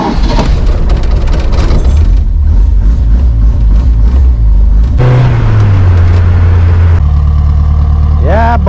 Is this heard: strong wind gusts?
no